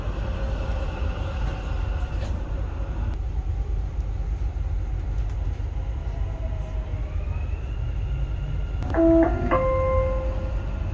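A Dubai Metro Green Line train runs with a steady low rumble and rolling hum inside the carriage, with a brief tonal chime near the end.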